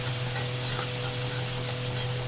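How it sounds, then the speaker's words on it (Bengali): Spice masala of cumin, coriander and turmeric powder being fried and stirred in a pan, a soft continuous sizzle with gentle scraping over a low steady hum. "আর জিরের গুঁড়ো, আর দেবো হলুদ গুঁড়ো দিয়ে মশলাটা কষাবো।"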